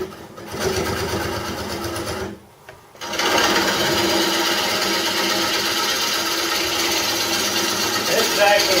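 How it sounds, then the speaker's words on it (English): A wood lathe turns a bowl and throws off shavings, giving a steady whirring cut with a constant texture. A short gap breaks it before it resumes louder and continues without letup. "This is actually the most fun part of bolt turning because you really think you're doing something because you make shavings."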